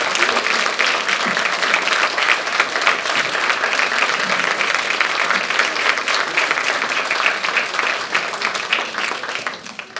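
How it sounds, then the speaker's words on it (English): A room of people applauds steadily for ten seconds with dense, even clapping and no pause at a community volunteer recognition breakfast. "let's have another great round of applause for the three of our community"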